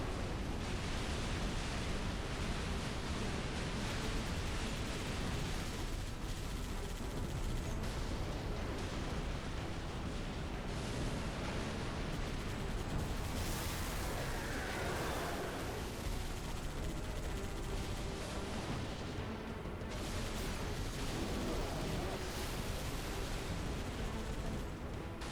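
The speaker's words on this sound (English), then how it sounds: "all these explosions." Dense, continuous explosions and gunfire from the final level of the video game Halo 3, loud and unbroken throughout with heavy rumbling blasts layered on top of one another.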